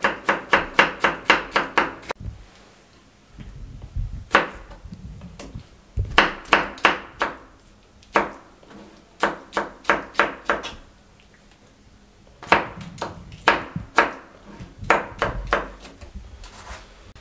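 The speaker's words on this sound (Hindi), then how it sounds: "टमाटर छील लिए, हल्का सा चॉप कर ले इसे या काट लें इस तरह बारीक बारीक।" A knife chops peeled tomatoes finely on a cutting board in quick bursts of sharp, close taps, several rapid runs separated by short pauses.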